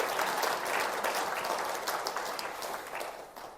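A church congregation gives a round of applause during a Sunday worship service, a sustained wash of many hands clapping that gradually tapers off over a few seconds.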